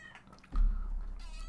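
A cat lets out a single short meow, close and moderately loud, with a little background noise before and after it.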